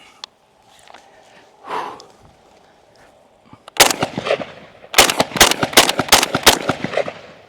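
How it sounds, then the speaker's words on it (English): An IWI Tavor TS12 tube-fed shotgun fires a rapid series of loud, sharp blasts after a quiet stretch of faint rustling and breathing, with about a dozen close reports in quick succession. "So let's go ahead and let's take some shots with this."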